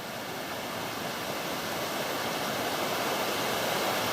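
Rainbow (Mulangong) Falls and its creek in Macquarie Pass National Park on the Illawarra Escarpment give a steady, full rush of falling and flowing water, fairly near and unbroken, with no talking over it.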